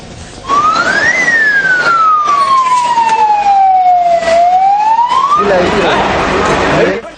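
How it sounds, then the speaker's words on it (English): Fire truck sirens wail at a multi-storied building fire in a leather store on Prince Street in Petta, one loud siren rising and falling slowly over rumbling traffic. "A dozen fire trucks were dispatched to douse the fire"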